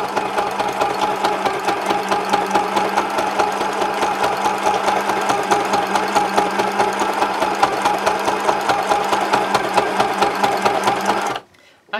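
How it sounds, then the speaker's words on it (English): A sewing machine stitches through layered luggage tag material in a fast, even run of close mechanical thumps lasting about eleven seconds before stopping abruptly. "now I'm going to sew through everything"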